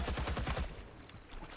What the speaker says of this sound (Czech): Ty vole, tady někdo střílí.